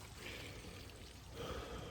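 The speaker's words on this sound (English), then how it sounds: "now I can hear the water running, traveling down that pipe" Water from an IBC tank valve rushing down a pipe toward a greenhouse, a faint steady hiss and trickle that swells slightly in the second half, with no talking.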